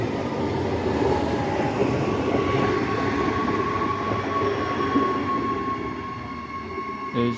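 An Adelaide Metro train heading toward the city passes close by. Its heavy, steady rumble and rail noise fill the whole stretch at a constant loud level, with no voices.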